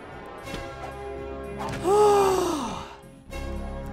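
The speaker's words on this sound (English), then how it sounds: "breathing right on the microphone there" Heavy breathing close on a microphone by a player of Jak and Daxter: The Precursor Legacy, with soft breaths building into one loud, drawn-out sighing exhale and a breathy, groaning voice.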